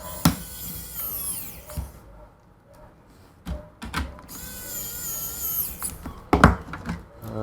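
A power screwdriver drives laptop motherboard screws on an Asus AsusPro P2520LA, with short whirring runs that rise and stop, separated by quiet gaps and small clicks of handling, close up.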